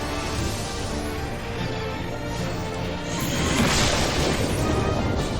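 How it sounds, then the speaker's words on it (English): Explosions in the video game Final Fantasy XIV during a raid fight: a dense, continuous wash of booms and crashing bursts that swells louder in the second half, with no voice heard over it. "the spread out drops explosions"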